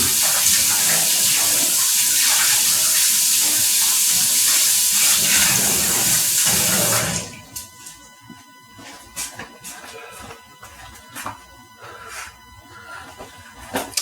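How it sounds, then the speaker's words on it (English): Hands washed under a running kitchen tap while making peanut butter brownies: a loud, steady gush of water for about seven seconds, then it stops, leaving scattered drips, splashes and light handling sounds. "Let me wash my hands"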